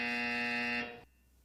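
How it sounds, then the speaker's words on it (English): A basketball game buzzer blares as one steady, loud harmonic tone for about a second, then cuts off abruptly, leaving quiet room noise. "Right at the buzzer."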